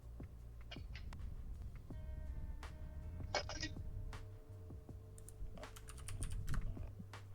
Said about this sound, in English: I'm typing it to you now, Moon.